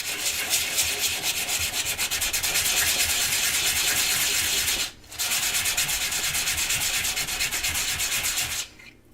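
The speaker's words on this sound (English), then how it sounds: "When I start sanding this way" Hand sanding of a scrap-wood piece being textured for a patina finish: steady, continuous close-up rubbing strokes with a short pause midway, loud and alone.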